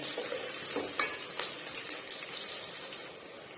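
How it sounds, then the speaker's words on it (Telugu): Green chillies and onion fry in hot oil for a Telugu chicken curry, giving a steady, close sizzle with a few light stirring clicks and no talk. "ఇలా కొద్దిసేపు నూనెలో వేయించుకోవాలి"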